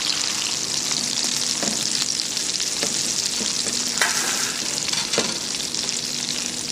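Sole fillets, white skin side down, sizzle steadily in a hot pan with a continuous crackling fry and occasional sharper pops, close and alone.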